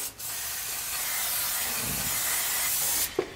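Brake cleaner sprays in one long, steady close hiss onto the disc brakes of a dump truck, stopping sharply after about three seconds and followed by a small clunk.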